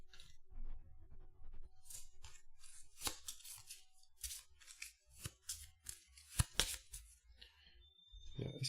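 Arkham Horror playing cards are shuffled by hand, giving soft riffling bursts and sharper snapping flicks in an uneven rhythm, close and quiet with brief pauses between passes.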